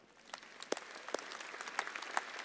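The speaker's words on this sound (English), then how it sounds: "So please, round of applause for Informatica." Faint, sparse applause from a keynote audience at a tech conference in Sydney, scattered claps heard at a distance over a quiet room.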